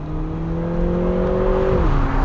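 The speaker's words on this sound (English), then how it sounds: "It's a 4-cylinder turbo. When you're kind of cruising about, it's a gritty, grainy sort of noise" The four-cylinder turbo engine of a Lotus Emira 420 Sport hums at a steady cruise with a gritty, grainy drone, close and loud, its pitch dropping slightly near the end as the revs ease off.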